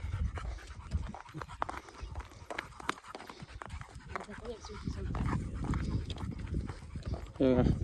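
A dog pants in quick, rhythmic breaths close by, mixed with shuffling and clattering noises and people talking in the background.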